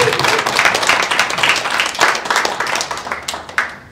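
A round of applause at an online event: a modest group clapping, with individual claps distinct and rhythmic, moderately loud and close, tapering slightly toward the end.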